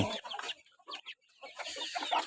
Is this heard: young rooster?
yes